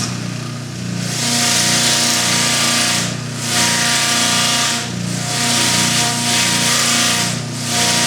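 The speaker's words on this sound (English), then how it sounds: "I'm going to go ahead and flap sand my little saddle horn here" A flap sander working a small carved wooden saddle horn for a cowboy's horse carving: a loud, steady motor whine with a rough abrasive hiss that swells and eases in repeated passes, heard alone.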